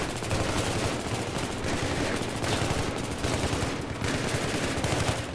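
Heavy, continuous gunfire from Battlefield 3 fills the scene, with rapid automatic bursts layered over each other. It stays dense and steady throughout, with no pauses.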